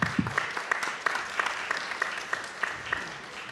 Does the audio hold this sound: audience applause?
yes